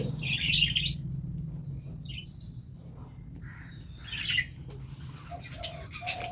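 Budgerigars chirp and twitter in quick bursts over a low steady hum, some calls close and others softer in the background.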